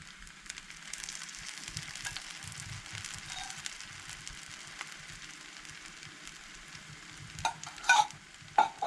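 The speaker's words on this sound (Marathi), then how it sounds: "मागीर अशीच ती फ्राय करूंक जाय" Rava-onion bhakri frying in oil on a pan gives a faint, steady sizzle, with a few sharp scrapes or clatters near the end and no talk.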